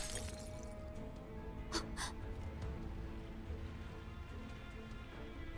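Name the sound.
wine bottle smashed, glass breaking, from Girl's Frontline 2 video game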